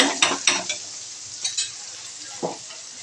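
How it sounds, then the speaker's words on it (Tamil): Masala frying in a pan until golden, with a low sizzle under several sharp scraping stirs of a spoon against the pan, close and intermittent. "இது அப்படியே பொன்னிறமாக நம்ம வறுத்து எடுத்துக்கலாம்"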